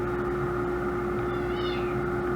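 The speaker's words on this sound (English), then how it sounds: "It was meowing, but Wilbur and him play" A pet cat gives a faint, brief meow partway through, heard over a steady droning hum and background noise, with no talking.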